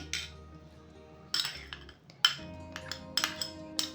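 A spoon clinks and scrapes against a bowl while fruit custard ingredients, including custard apple, are stirred together, giving several sharp metallic taps and brief scrapes, close and fairly quiet with pauses between.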